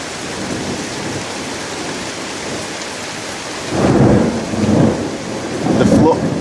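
Heavy rain pours steadily outside a second-floor window of a mansion, with deep thunder rumbles rolling in near the end, loud and continuous with no talk over it.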